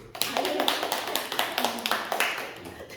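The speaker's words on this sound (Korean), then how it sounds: "우리 총무님 박수 한번 쳐줘요" An audience at a theological seminary gathering claps for the general secretary, a brisk run of regular hand claps, fairly close and steady, with a voice faintly under them.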